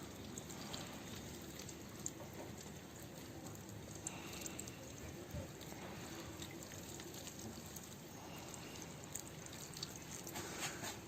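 Water poured from a container onto newly planted garlic in a terrace pot makes a steady, soft splashing and trickling that runs continuously and fairly faintly, with no talk over it.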